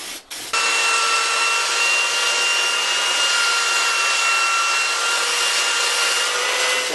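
Spray finish being applied to a wooden sign made from a multicolored plank: a steady, loud, continuous hiss with a faint whine that starts abruptly after a brief pause and runs unbroken for several seconds.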